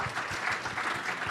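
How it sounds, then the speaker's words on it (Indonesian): A church audience gives a brief burst of enthusiastic applause, dense clapping with a quick uneven pulse, close and steady for a moment. "Tepuk tangan yang meriah begitu"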